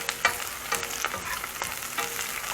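Garlic and onion fry in hot oil with a steady close sizzle, punctuated by stirring scrapes in the pan and no voices.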